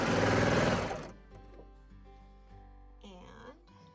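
A sewing machine stitches a romper sleeve in a fast, loud buzzing burst that stops after about a second, followed by quieter handling noises and a voice speaking.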